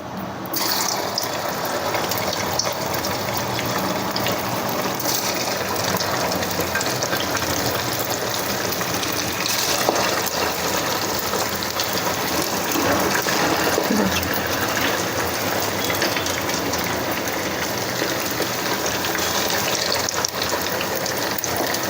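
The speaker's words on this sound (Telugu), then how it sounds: "నూనె బాగా వేడైందండి కాగింది ఒక్కొక్క పీసు దీంట్లో వేసుకోవాలి" Chicken pieces for crispy chicken pakodi deep frying in hot oil, a dense, loud, continuous bubbling sizzle that holds steady for the whole stretch, close up with no voices.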